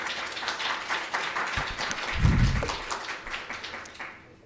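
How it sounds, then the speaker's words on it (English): An audience applauds a lecturer, Professor Reardon, at an academic talk, a soft, steady wash of many hands clapping at moderate distance, swelling briefly in the middle and fading toward the end. "Let's give a warm round of applause to Professor Reardon"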